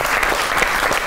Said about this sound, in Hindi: बहुत सी तालियां